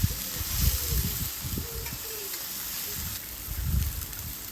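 Steady sizzling hiss of pork, apple and sage burgers cooking on a hot grill plate, fairly quiet and continuous, with some low clattering and a faint voice in the background.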